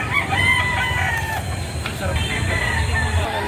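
A rooster crows loudly at a chicken market in Padre Garcia, Batangas, its drawn-out call rising over crowd murmur and low rumbling background noise.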